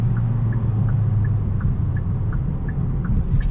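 A 2022 Hyundai Elantra N Line cruises in sport mode, heard from inside as a steady low engine and road rumble with a faint ticking that repeats at an even pace.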